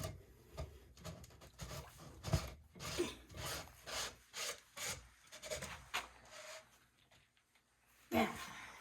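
A blue water filter housing on a house water filter is screwed back in by hand, giving a series of rhythmic scraping, rubbing turns of plastic threads, close and fairly loud, ending in a final firmer grind.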